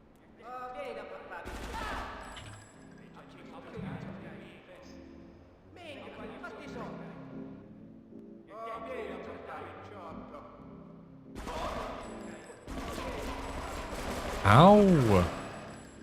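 Gunfire rattles through several bursts in GTA Frosted Winter, volleys of shots spaced a few seconds apart with a sharper, denser barrage near the end. A voice talks over the shooting.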